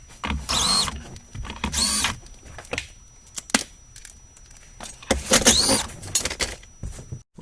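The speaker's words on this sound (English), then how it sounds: "We're going to remove the steering column cover plastic." Plastic steering column cover on a Ford being pried and pulled loose, with several loud bursts of cracking, clicking and rattling plastic separated by quieter gaps, close by and with no talking.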